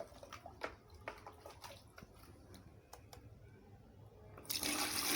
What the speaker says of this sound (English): We are adding 3 liters of water